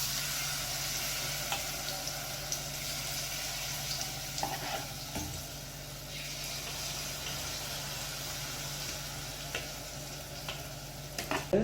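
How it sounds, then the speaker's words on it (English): Saltfish, callaloo and carrot fritters fry in oil over medium-high heat, giving a steady close sizzle with occasional crackles and pops, no talking. "when you're frying these fritters in your oil, you have to ensure that your fire is on medium high heat"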